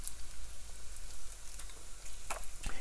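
Meat frying in a pan as its fat renders, a steady soft sizzle with scattered crackles and pops, the sharpest near the end.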